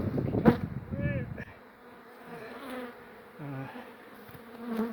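Honeybees buzz steadily and close by throughout as a large hive is relocated at the Lake Goldsmith Steam Rally, with a denser swell at the start and a few short tonal hums mixed in.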